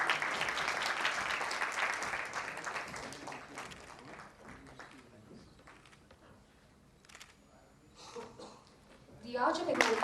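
An indoor audience at an awards function claps for several seconds before the applause tapers off. Then a fresh burst of clapping rises, with some faint voices in between.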